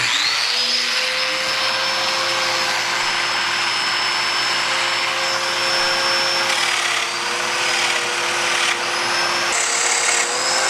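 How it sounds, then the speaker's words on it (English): A domino joiner cutting mortises in wood gives a loud, steady, close whine with a vacuum-like roar, running continuously throughout with no talking. "you're gonna do the last mortises, Big D, so I'm gonna leave it up to you."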